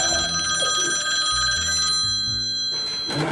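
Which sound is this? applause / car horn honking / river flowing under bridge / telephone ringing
telephone ringing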